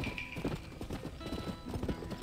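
Horse hooves clip-clop in a quick, steady rhythm while riding through the Old West of Red Dead Redemption, close and continuous with a faint game-music tone beneath.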